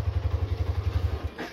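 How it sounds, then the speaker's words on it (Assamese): Hero Xtreme 125-R motorcycle idling close by, its exhaust thumping in a steady, even pulse for over a second before cutting off, followed by a brief rising whoosh; no voices. "ইমান ধুনীয়া মানে এক্সজছ চাউণ্ডটো"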